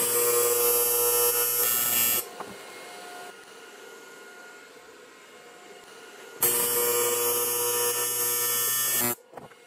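Stick electrode tack welds being struck on a steel joint, a loud steady crackling buzz for about two seconds, a quieter hum between, then another sustained burst of arc for nearly three seconds before cutting off.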